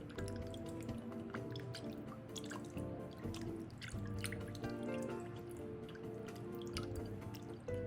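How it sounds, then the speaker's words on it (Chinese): Water being added to a bowl of chopped pork spare rib pieces, 3 to 4 cm long, to soak, with steady dripping and trickling splashes close by over a dense low kitchen hum. "然后再加入清水，泡个20分钟"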